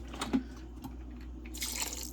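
White distilled vinegar poured into a pot of collard greens: faint, quiet drips and trickling, then a brief, brighter splashing pour near the end.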